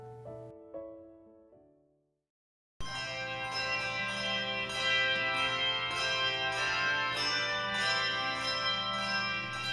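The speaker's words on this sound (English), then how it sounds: "We're thankful that the tower bells still welcome us to worship." The tower bells of St. John's church ring out loud and resonant, a decaying stroke giving way to a short silence, then full sustained peals with rich overlapping tones hanging in the air.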